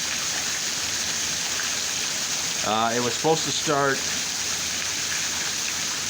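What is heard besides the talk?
rain falling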